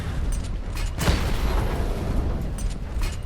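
A gun turret blows up in Batman: Arkham Knight, a single heavy boom that lands about a second in, with rumbling debris and mechanical noise continuing loudly afterward.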